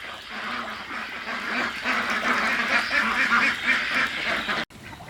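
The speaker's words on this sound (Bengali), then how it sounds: "বাড়ির ছাদেও হাঁস পালন করা যায়" Pekin ducks on a rooftop farm in a city give a dense, steady chorus of many overlapping quacks, nearby and fairly loud for the whole stretch, with a brief dropout near the end.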